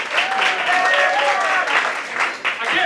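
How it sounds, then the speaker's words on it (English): A comedy-festival crowd at a historical roast show in Ashland breaks into loud, dense applause that lasts the whole stretch, with whoops and voices mixed into the clapping. "give this round of applause"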